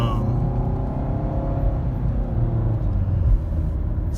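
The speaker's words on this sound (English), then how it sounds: "Still got the good old CVT whirring under the hood." A 2017 Nissan Rogue SV with a CVT on the road, a steady low rumble and drivetrain drone from inside the cabin, continuous and fairly loud with no clear change in pitch.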